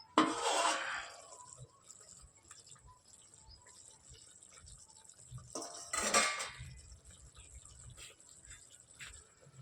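A metal lid is set onto a cooking pot of whole-garlic curry, giving two short clattering clanks a few seconds apart, close and fairly quiet in an otherwise hushed kitchen.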